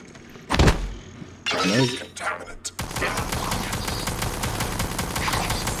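Rapid machine gun fire against mimics in the video game Prey (2017), a steady loud stream of shots following a crash and a brief burst of talk.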